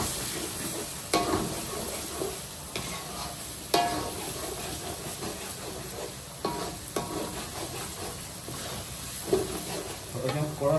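A spatula scrapes and stirs chicken curry with coriander and cumin powder in a pan, making repeated sharp scraping strokes over a soft sizzle.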